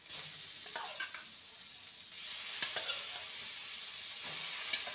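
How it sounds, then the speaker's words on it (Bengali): Fried potatoes and ridge gourd sizzle quietly in spice paste as they are stir-fried in a pan, a soft steady hiss broken by a few faint scraping strokes of a spatula. "মশলার সাথে আলু আর ঝিঙেকে ভালো করে কষিয়ে নেব।"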